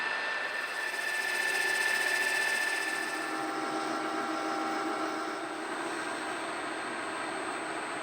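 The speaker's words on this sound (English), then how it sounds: "first we'll face off what will become the top surface" A metal lathe faces off a metal part that will become a top surface, giving a steady, close mechanical whine with a high ringing tone that holds evenly throughout, with no talking.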